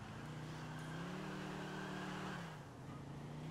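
A car with poor grip driving in GTA IV, its engine humming at a steady, fairly quiet pitch and then dropping briefly before picking up again, with no voices over it.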